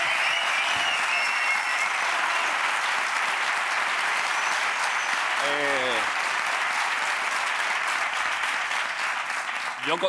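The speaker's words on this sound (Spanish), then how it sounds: "este aplauso se me queda corto" Sustained loud applause and ovation from a large TV studio audience fills the whole stretch, dense and steady, with a brief voice cutting through partway.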